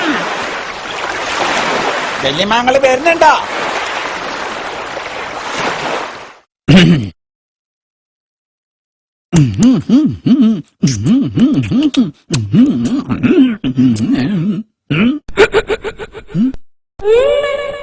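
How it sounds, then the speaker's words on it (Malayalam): Sea waves break on the shore with a broad, rushing wash for several seconds and a voice mixed faintly in. After a short gap, close conversational speech takes over in bursts. "തിരമാല വല്യമ്മ"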